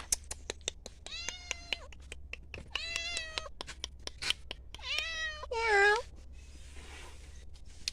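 A cat meows several times in a row, close by, the calls rising into a drawn-out whine, with soft clicks and taps scattered between them.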